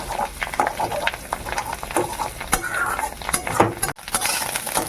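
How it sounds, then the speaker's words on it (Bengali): Ripe fish roe with turmeric frying in a pan gives a crackling sizzle broken by the scrape and clink of a utensil stirring against metal, close and busy throughout. "ভালো করে ভাজা হয়ে গেছে"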